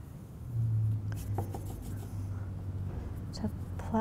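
A small paintbrush lays thick paint onto paper in a positive and negative space painting tutorial, producing faint, soft, steady brushing and rubbing strokes over a low background hum.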